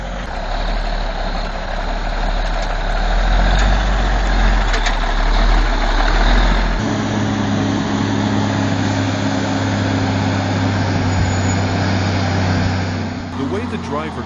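A heavy logging truck hauling tons of timber grinds up a steep rugged slope, its deep diesel engine droning loud and steady, dropping into a lower laboring tone partway through.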